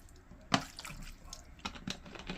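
Seafood rinsed with lemon juice and water for a garlic butter seafood boil, giving soft wet drips, squishes and splashes in irregular bursts, fairly close and quiet, with no talking.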